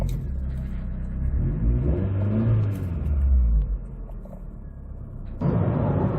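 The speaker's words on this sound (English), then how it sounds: "I think it's time for us to get on the road and see how this lovely Grand Tourisme actually" Engine of a 1999 Peugeot 206 2.0 Grand Tourisme (GT) hatchback rumbles steadily as the car pulls away and accelerates on the road, with a louder surge of road and engine noise near the end; no talking.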